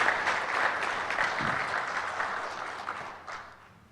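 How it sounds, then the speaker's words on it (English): Sustained applause from a crowd at a college football press luncheon, dense and steady at first, then gradually thinning and fading toward the end. "Let's give that applause."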